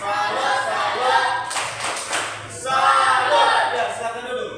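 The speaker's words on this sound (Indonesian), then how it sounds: "Tepuk salut. Salut, salut." A classroom of students claps out a rhythmic 'tepuk salut' chant, with loud, dense clapping near at hand that pauses briefly and then resumes as a full group.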